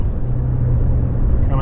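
A 2026 Toyota Corolla Cross SE Hybrid pulls away in sport mode, a steady loud low engine and road rumble heard from inside the cabin, with a voice talking over it.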